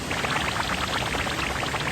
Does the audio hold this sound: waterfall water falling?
yes